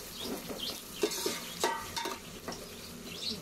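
Ginger and onion frying in a pan, with a soft steady sizzle broken by intermittent utensil clinks and scraping as they are stirred, close and fairly quiet.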